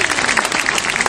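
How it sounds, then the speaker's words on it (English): Brief burst of audience applause and scattered clapping greets a trained bird's catch during a live bird show, dense and steady for about a second. "Give her a round of applause if she gets that."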